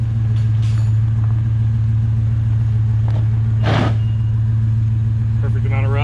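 A lowered Chevrolet Silverado pickup rolls along under its own power, giving a steady low engine drone throughout, with a short burst of voice-like noise partway through.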